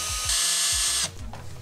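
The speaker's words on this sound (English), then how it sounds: "I first try to drill out the rivets" A power drill works at rivets on an old leather knife sheath, a buzzing whine with rapid ratcheting clicks that run for about a second, then stop, followed by a few softer mechanical sounds.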